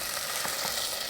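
Chopped red chili frying in oil for a whole black-eyed pea curry, a dense, steady hiss of sizzling, close and loud for a brief moment, with no talking.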